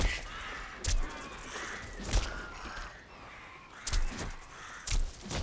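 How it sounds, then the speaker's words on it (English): Crows caw repeatedly outdoors, several loud harsh calls spaced a second or so apart over a steady background. "Oh, we got crows."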